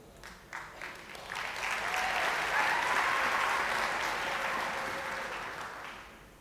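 An audience claps at a university graduation ceremony in Pretoria, steady, sustained applause that swells in the middle and tapers slightly at the end, with faint crowd murmur beneath.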